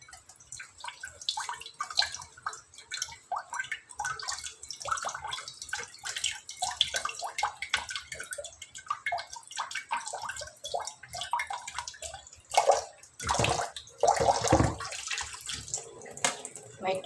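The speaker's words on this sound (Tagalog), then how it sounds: "May tulo na. Kanina ay walang tulo guys." Water drips and splashes indoors at home, irregular taps and trickles like a leaking faucet or tub, with speech heard intermittently and a louder gush of water near the end.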